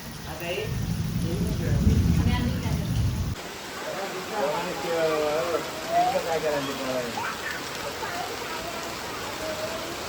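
Heavy rain pours down in a Konkan village, a constant wash of noise, with a loud low rumble in the first few seconds before it settles into steady falling rain with voices speaking over it.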